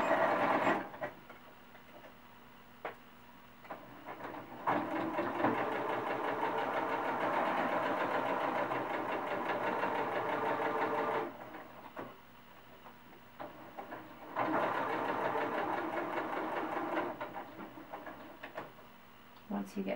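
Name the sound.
sewing machine stitching a seam around a cloth doll ponytail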